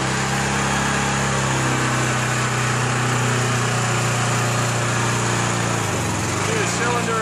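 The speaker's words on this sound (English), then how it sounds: "Our ditch width PB30 hydraulic lateral pipe burster." A PB30 hydraulic lateral pipe burster and its hydraulic power pack drone loudly and continuously at a Seattle pipe-bursting job, a steady engine hum with a pitch dip near the end, and a voice speaks over it.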